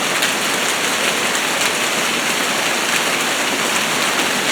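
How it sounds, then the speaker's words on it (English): Heavy downpour of rain in a whiteout, a dense steady roar of drops hammering the ground and surfaces, loud and unbroken throughout with no voices. "look at that rain."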